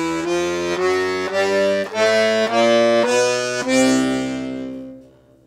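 Piano accordion plays a short zydeco riff as a blues-lesson example, a run of separate reedy chords in a bouncy rhythm, close and loud, ringing out alone at the end with no talk.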